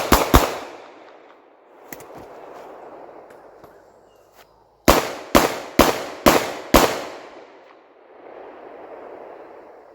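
Sharp gunshots from a snub-nosed revolver during a left-hand-only shooting drill: two opening cracks, a few scattered ones, then five loud shots in quick even succession, with outdoor background hiss between them.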